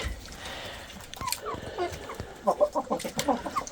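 Hens cluck in a henhouse where a young Jersey Giant rooster lives, with scattered clucks at first and then a louder, rapid run of clucking close by. No one speaks.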